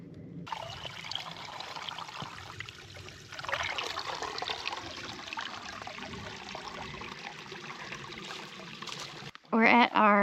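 Water trickles steadily at a trail water source on the Pinhoti Trail, a continuous splashing hiss running for nearly the whole stretch before a brief voice cuts in at the very end.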